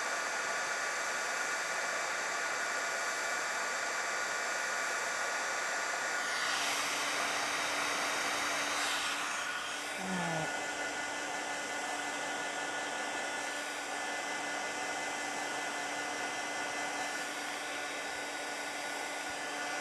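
A heat tool runs close and steady with a constant airy whoosh while it heats up for embossing ink, a faint brief clatter partway through.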